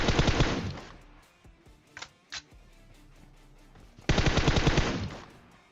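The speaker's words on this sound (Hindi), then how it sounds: "मेरे ख्याल से M16 पटका रहा है।" M16 rifle fire in the PUBG Mobile battle royale game, two loud rapid automatic bursts at the start and end with two short single shots between, quiet game ambience in the gaps.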